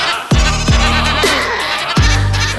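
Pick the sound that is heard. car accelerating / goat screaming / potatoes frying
goat screaming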